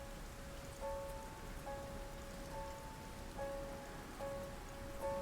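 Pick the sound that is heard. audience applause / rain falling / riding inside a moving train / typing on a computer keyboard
rain falling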